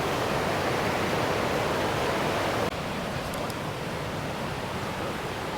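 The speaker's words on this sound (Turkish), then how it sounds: "Ama bu öyle bir dalgalı bir akıntı, korkutucu." Rushing water at Niagara Falls roars as a loud, constant broadband wash, unbroken and close throughout with a slight drop in level midway.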